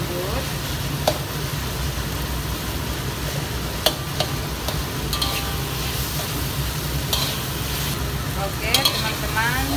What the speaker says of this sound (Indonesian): kita tumis tomatonya agak lembut